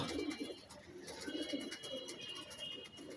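Pigeons coo softly in repeated low, rolling calls, with faint chirps and background hiss around them.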